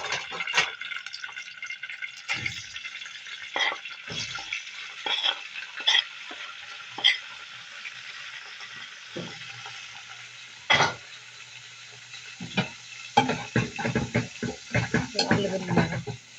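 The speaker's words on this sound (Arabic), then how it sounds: "نقلب التقلية بتاعتنا." A spoon scrapes and stirs through a thick flour roux in ghee and corn oil in a pan, with a soft, steady sizzle underneath and irregular scraping strokes.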